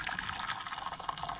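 Hot, steaming water poured from a kettle into a container, a continuous splashing trickle at close range with no voices.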